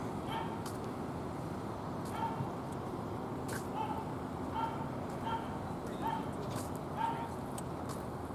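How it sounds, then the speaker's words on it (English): A dog barks repeatedly in the distance at an outdoor church picnic, short yips and woofs spaced through the steady background murmur and wind noise. "The doggy's barking."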